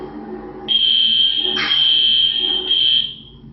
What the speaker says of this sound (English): Setting off a fire alarm on Easter Sunday to terrorize a man in a wheelchair.